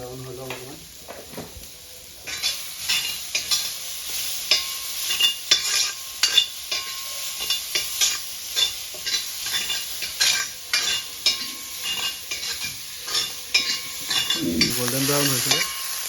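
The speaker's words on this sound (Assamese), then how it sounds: "গাহৰিটো দি দিলোঁ। অকণমান টাইম ফ্ৰাই কৰি" Pork pieces fry in a pan after onions that were browned to golden, with continuous sizzling and frequent scraping stirs of a utensil against the pan, plus a brief soft voice at the start and a bump near the end.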